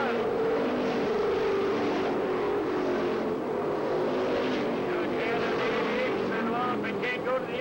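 Race cars roar around a track during a race on lap nine, a dense continuous engine drone with rising and falling pitch sweeps from passing cars, heard under an announcer's steady commentary.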